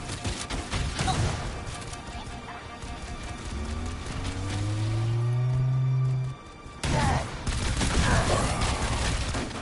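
Gunfire and heavy blasts from a cannon in the Halo Campaign Evolved video game, dense and loud, with rising whining tones and a brief drop midway before the bursts resume, under occasional voices.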